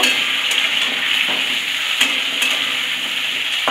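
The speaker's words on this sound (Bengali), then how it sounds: "এবার কেটে রাখা আলু দিয়ে দিচ্ছি। খুব ভালো করে আলু ভেজে নেব।" Cut potatoes frying in oil with tempered spices and chillies, a bright steady sizzle with a few clinks and scrapes of stirring, close by and moderately loud, with no voices.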